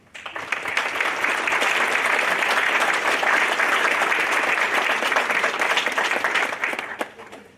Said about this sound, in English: just stand up so we can clap for you